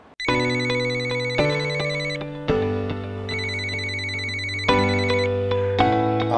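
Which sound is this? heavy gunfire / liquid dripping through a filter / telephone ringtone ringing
telephone ringtone ringing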